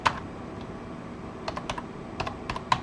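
A computer keyboard typing a command, with a few sparse key clicks followed by small clusters of quick taps, close and fairly quiet, with no talking.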